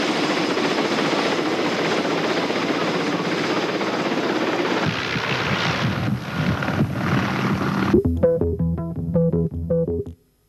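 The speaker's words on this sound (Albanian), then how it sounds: "Helikopteri zyrtar qeveritar e zbarkon Bashkim Fino në stadiumin e Tiranës" An official government helicopter landing at Tirana's stadium in 1997, its engine and rotor roaring loudly and steadily for most of the time before the noise gives way to a choppier, tonal sound near the end.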